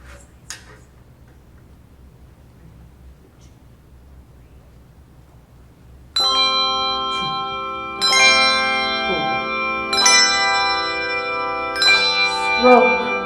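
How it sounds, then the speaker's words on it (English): A rehearsing bell choir rings handbells and chimes after a quiet stretch, with bright ringing strikes landing roughly every two seconds and long tones sustaining and overlapping between them. "So let's play it one more time with bells"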